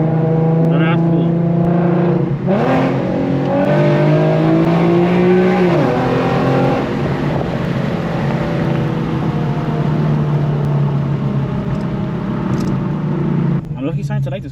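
A straight-piped Infiniti Q50 accelerates hard at night, its engine droning loud and steady through a long pull. The rising tone climbs through the gears before easing off near the end.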